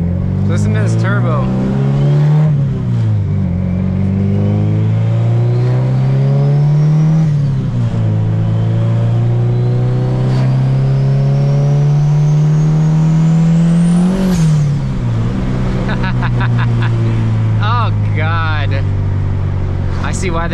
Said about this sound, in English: Listen to this turbo.